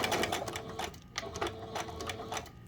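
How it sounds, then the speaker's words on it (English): A sewing machine runs a straight seam down a small piece of fabric for a little bear vest, in short steady bursts of fast mechanical stitching with brief pauses between. "And we just sew straight down"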